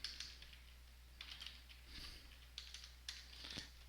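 Soft clicking keystrokes on a computer keyboard as code is typed, quiet irregular bursts of taps with short pauses between them.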